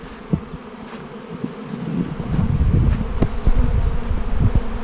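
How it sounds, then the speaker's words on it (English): Honeybees buzz close by in a dense, droning swarm around salvage frames, growing louder and busier partway through with occasional sharper passes. "Plenty of bees in here."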